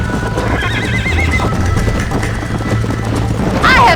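Horse hooves and neighing in the Red Dead Redemption video game, a steady galloping clip-clop with a sharp whinny near the end, set over a low rumbling game soundscape.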